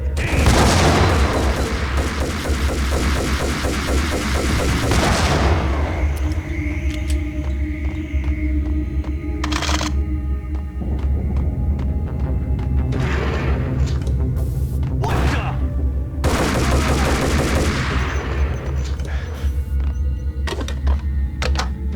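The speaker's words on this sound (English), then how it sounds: "you can see the bullets flying through the air" Slow-motion gunfire in the Max Payne video game: heavy booming shots and dull thuds over a loud, continuous action-music bed, with two or three stronger bursts standing out along the way.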